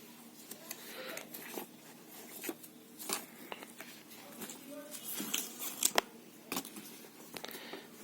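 Packaging of an Apple HomePod mini being unwrapped by hand, with scattered crinkles, tears and rustles at close range, fairly faint, with a few sharper snaps around the middle.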